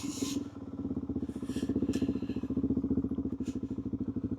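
Motorcycle fitted with Motoz Tractionator tires riding slowly through slippery mud, the engine a steady close thumping idle-like pulse with occasional clatter and splashes over it.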